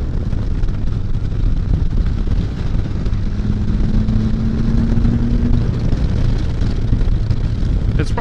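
A car's engine roars steadily after a downshift, its loud droning exhaust note dominating throughout with a slowly rising pitch under heavy wind and road noise, and no talking heard.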